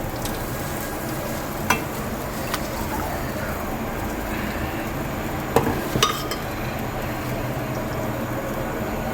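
Yogurt blended with ground onion frying in hot oil in a pan while cooking kofta curry, a steady close sizzle with a few sharp clinks of a utensil against the pan.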